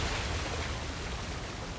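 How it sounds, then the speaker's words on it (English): Video game waterfall in Uncharted 4, a steady broadband rush of falling water, loud and even throughout the short moment with no other sounds on top. "Another waterfall."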